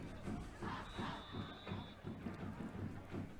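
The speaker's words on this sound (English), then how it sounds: "Spirit teams are cheering." A crowd and spirit teams cheer at a high school football playoff game on a cold night, a dense, distant roar with rhythmic chanting and a steady wash of noise, heard alone with no clear voices.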